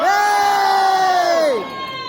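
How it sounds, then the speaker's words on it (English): Wedding guests in Scotland cheer and whoop together in a loud, sustained burst that quickly fades away. "edit that cheer onto the end of my speech"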